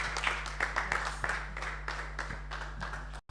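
A church congregation applauds to welcome a preacher at a seminar, a patter of scattered claps of moderate, fairly distant loudness with no voice over them, cut off abruptly at the end.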